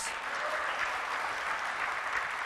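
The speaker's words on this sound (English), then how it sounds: "Can I have a round of applause?" Round of applause from an audience at a trading seminar, even sustained clapping at fairly low level throughout, with no talk over it.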